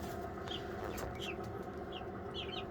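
Meat turkeys in a chicken tent with a heat lamp give soft, scattered clucks and chirps over a steady background hum, close by and fairly quiet, with no one talking.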